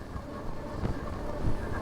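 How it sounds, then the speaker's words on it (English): Steady low wind rumble buffets a microphone outdoors while riding a Lectric XP4 750W e-bike on a road, a continuous soft roar with slight gusts and no voices. "It's a little windy on this road."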